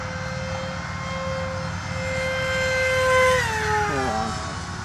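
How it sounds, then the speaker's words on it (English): A SkyFighter v2 RC model plane on a 4-cell electric setup screams past fast, its high-pitched motor whine holding steady and then dropping sharply in pitch as it zooms by, loud and close. "Yeah, that thing's screaming, that motor."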